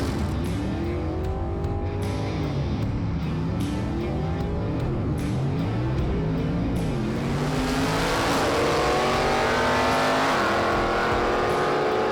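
Gasser drag race cars in Superstock, one carrying a 406 cubic inch Butler Performance engine on 7-inch spec tires, roar down the strip with loud sustained engine howl and rising revs, the noise swelling as the cars pass.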